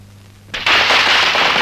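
Firecrackers burst into a sudden, loud, continuous crackle that starts partway in and keeps going to the end, close by and dense, with no talking over it.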